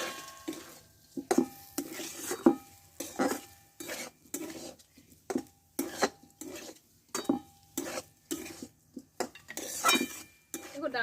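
Washed mung dal being stirred with spices in a pan, with a rhythmic series of distinct spatula scrapes and clinks against the metal, separated by short pauses, over a faint sizzle.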